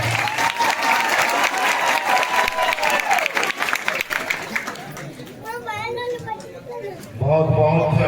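A gathering of devotees claps in honour of guests, a dense, loud burst of applause with crowd chatter that fades after about five seconds into voices speaking.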